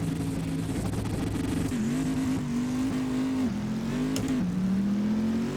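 GT race car engines rev and climb through gears at a standing start at Monza in the Assetto Corsa racing game, a loud sustained roar with rising pitch sweeps and a brief tire chirp, no talking.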